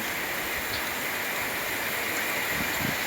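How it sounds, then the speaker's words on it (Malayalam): Rain falls steadily and blows in the wind, giving an even, unbroken rush of noise from start to finish with no speech. "ഇവിടെ നല്ല കാറ്റും മഴയാട്ടാ നല്ല തണുപ്പും"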